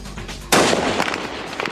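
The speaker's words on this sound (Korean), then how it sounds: "허공을 가르는 총소리와 함께 총탄은 유리창을 뚫고 테러범을 명중시켰습니다." A single loud, sharp sniper rifle shot cracks out after a quiet moment, with a bright burst of shattering window glass and a brief ringing tail.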